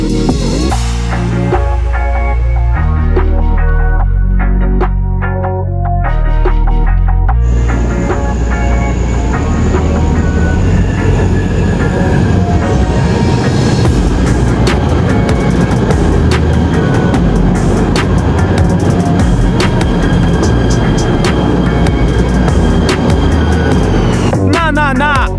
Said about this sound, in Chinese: 早上最早的火车回家乡投票。